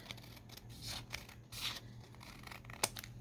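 Scissors trimming a vintage paper book page pocket, a few soft snipping and rustling cuts spread over a few seconds with one sharper snip near the end, close and fairly quiet, no talking.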